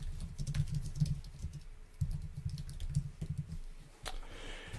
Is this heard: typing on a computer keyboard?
yes